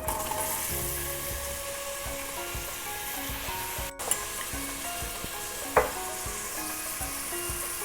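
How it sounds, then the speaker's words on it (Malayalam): Three sliced large onions sizzle steadily in hot oil in a pan for a ghee rice and beef curry, a constant broadband frying hiss with a sharp clack of a utensil midway, no voices. "അത് ചൂടായതിന് ശേഷം 3 വലിയുള്ളി അരിഞ്ഞു വെച്ചതാണ്, അതിട്ട് കൊടുക്കാം."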